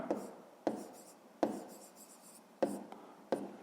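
Pen writing on paper for a fifth-grade math exercise, a quiet close series of short scratchy strokes in an uneven rhythm, heard alone.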